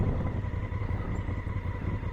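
Honda CRF1000L motorcycle riding off-road on sand, a steady, continuous mid-pitched engine drone holding at an even loudness throughout, with no voices over it.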